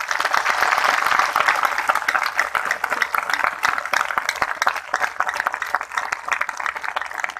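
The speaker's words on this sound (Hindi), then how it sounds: "एक बार भाइयों की तरफ से जोरदार ताली होनी चाहिए" Crowd applause at the Latiya festival in India, many hands clapping loudly at first and then thinning into scattered, uneven claps as it fades.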